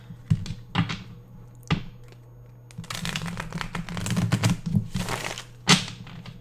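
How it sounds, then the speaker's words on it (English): A deck of tarot cards being shuffled up close, sharp taps and knocks of the deck followed by a longer rustling shuffle, with no talk over it. "Let's shuffle up the cards."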